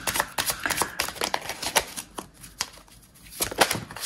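Tarot cards are shuffled by hand in a rapid run of crisp riffling flicks and soft slaps, close and fairly loud, with a brief lull before a final burst of shuffling.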